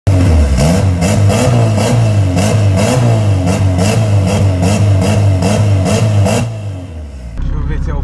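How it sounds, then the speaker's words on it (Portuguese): Gol GTI Turbo 16-valve car engine revving loudly and close in rhythmic pulses near a beach, a steady pumping drone with repeated bursts, easing off near the end. "Vamos dar um rolê de Gol GTI Turbo 16 válvulas na praia"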